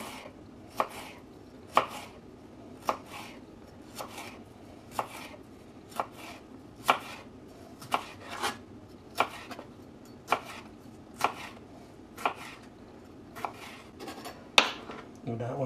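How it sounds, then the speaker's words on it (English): A knife julienning a red pepper very thinly on a cutting board, sharp regular chops roughly once a second, close and distinct over faint background noise. "I happen to have a red pepper, and I like it, so I'm using it. Julienne it."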